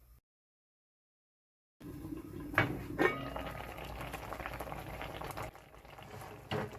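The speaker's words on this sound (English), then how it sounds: "I'm going to let it boil for about 5 minutes" Pigtail, saltfish and vegetables boil in a pot for cook-up rice, a steady close bubbling hiss starting after a short silence, with a couple of metal clinks from the pot.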